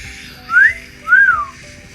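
A voice imitates whistling with two rising-and-falling whistled notes, clear and close, separated by a short gap.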